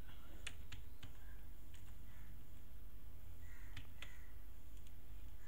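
Light computer keyboard typing comes as a handful of faint, sparse clicks and taps over a steady background hum.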